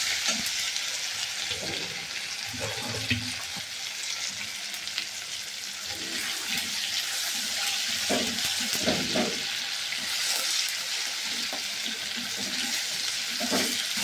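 Tomatoes sprinkled with a pinch of salt fry in a pan with a steady, close sizzle, broken now and then by soft stirring scrapes and bubbling.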